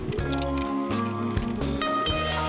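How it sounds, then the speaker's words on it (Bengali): Boiled mashed potatoes and boned tilapia are mixed by hand for fish cutlets, making soft, repeated wet squishes over steady background tones. "এবার ওগুলো সব ভালোভাবে মিশিয়ে নেব।"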